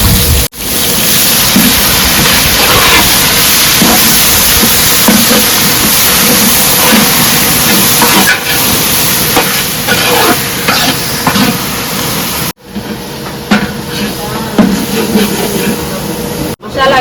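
Masala sizzling and crackling steadily in hot oil in a pan, a dense continuous frying hiss with brief pauses and occasional stirring scrapes, close by.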